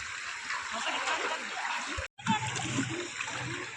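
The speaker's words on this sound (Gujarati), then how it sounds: "તાંબા પિત્તળના હવે ઉટકી નાખ્યા છે સરસ મજાના હવે નદીમાં ધોઈ નાખો" Water splashes and sloshes continuously as copper and brass vessels are rinsed in flowing river water, with a brief cut of silence partway through.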